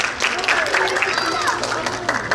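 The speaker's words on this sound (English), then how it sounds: "Round of applause for the winner." A crowd at a religious celebration applauds a raffle winner, brief clapping mixed with voices and talk from the room.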